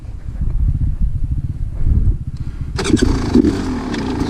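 A 450 motocross motorcycle engine on a North Idaho singletrack trail, loud and close, with a steady throbbing low rumble that rises sharply partway through as the throttle opens, alone without talk.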